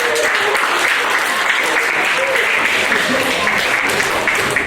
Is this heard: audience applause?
yes